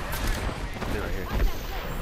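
Gunfire in Apex Legends, a dense burst of rapid shots sounding close and loud over a busy battle mix with speech faintly underneath.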